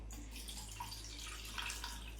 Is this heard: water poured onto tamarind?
yes